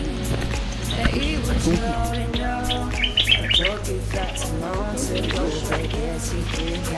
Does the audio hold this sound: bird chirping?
yes